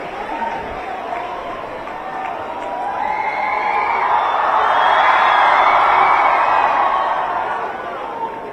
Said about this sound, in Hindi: जोरदार तालियों से बच्चों हम स्वागत करेंगे माननीय